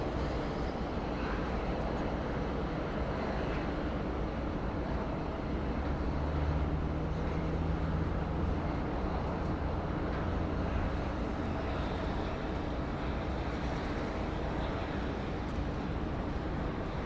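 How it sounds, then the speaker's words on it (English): A Jetstar Airbus A320 touches down on runway 34 left at Sydney Airport, a steady broadband roar of engines and rolling on the runway filling the whole stretch at fairly even loudness, with no talk. "So we catch that Jetstar A320, which has just touched down, 34 left."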